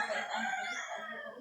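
A gamefowl rooster crows once, fairly faint and alone, with a drawn-out, wavering call lasting over a second.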